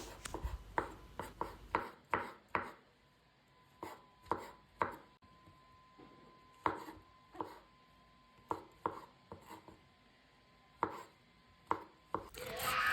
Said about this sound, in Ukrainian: ви можете взяти гриби, які у вас є, і нарізати також дрібненько